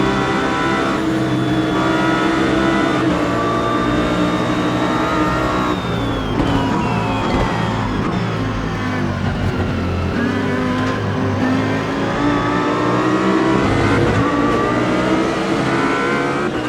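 Several AI-driven GT3 race cars scream past one after another in Automobilista 2, their engines loud and close, rising and falling in pitch as they accelerate and shift through gears with no pauses.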